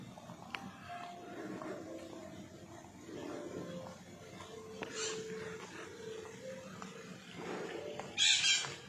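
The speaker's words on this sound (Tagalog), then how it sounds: "Daming ibon dito mga idol." Many birds call in a garden in Ciudad de Victoria after rain, scattered chirps and caws at varying distances over a soft ambient hum, with one sharp burst of calls near the end.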